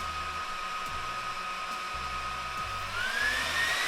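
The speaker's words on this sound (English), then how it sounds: "Those fans in there spun up pretty loud right now" A Dell R210 II rack server's fans run at full speed during startup, a steady high whooshing whine that rises in pitch near the end, moderately loud and close with no voices.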